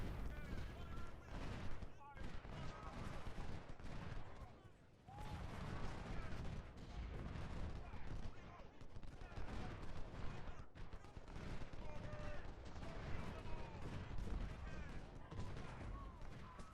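Musket volleys and artillery fire in Ultimate General: Civil War at a train station battle: dense, continuous crackling gunfire with heavier booms mixed in, fairly quiet overall, with a voice talking over the shooting.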